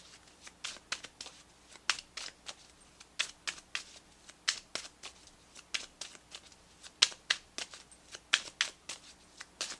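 A tarot deck is shuffled over and over in a steady run of crisp, close card flicks and riffles that repeat at a brisk rhythm, with nobody speaking.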